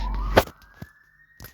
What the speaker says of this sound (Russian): Как же оглушает сирена